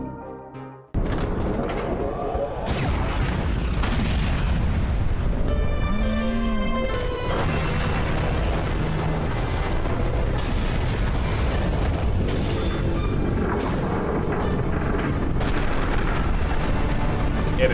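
Bomb explosions in a video game burst in suddenly and stay loud, rolling deep booms and crackling blasts layered almost continuously for many seconds.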